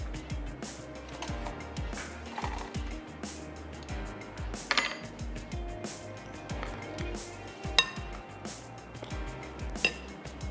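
A spoon taps and scrapes in a dish while crushed biscuits are layered for a double chocolate mousse, giving scattered light clinks at close range over quiet kitchen background.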